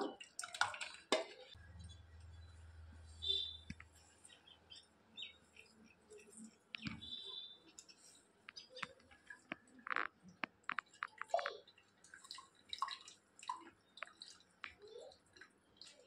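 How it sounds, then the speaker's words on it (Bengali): Mashed raw green mango is poured into a mesh strainer net while making raw-mango ice cream, giving soft wet squishes and drips up close, with birds chirping faintly in the background. "এবার আমি নেটের ভিতরে ঢেলে দেবো সেকার জন্য"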